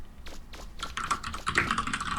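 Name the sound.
keyboard typing, from the video game Mega Man Legends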